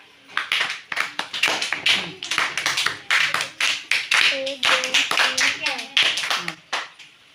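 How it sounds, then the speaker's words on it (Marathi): Children clap their hands in quick, sharp bursts, close and loud, with sung counting voices mixed through the claps during a snakes-and-ladders game at a school sports day. "एकदा टाळ्या वाजवा"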